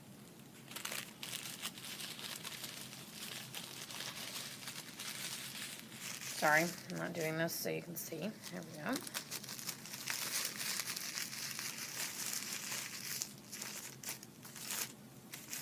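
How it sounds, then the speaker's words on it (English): Tissue paper petals crinkled by hand for paper flowers: a close, dry rustling and crackling burst in the middle, with a person talking before and after. "You need to individually crinkle these."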